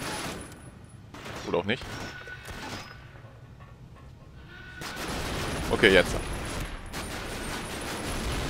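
Gunfire aimed at aircraft in the World War II shooter Medal of Honor Rising Sun, with bursts of shots and crashing impacts over a steady game background, loudest near the end, while someone talks.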